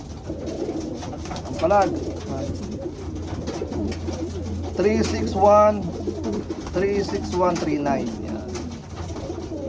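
Pigeon cooing in a loft, rolling coos near at hand around two and five seconds, under steady low hum and someone talking while handling a ringed, tagged bird.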